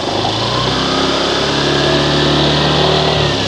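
Honda Click motor scooter engine idling steadily up close, a continuous loud, even hum with a low droning tone that holds throughout.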